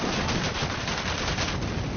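Rapid gunfire in a PS4 video game, a dense continuous burst of shots at steady loudness from start to end.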